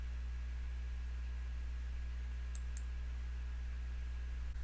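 Two faint, quick mouse clicks sound in software editing work, heard near the middle of a steady background hum.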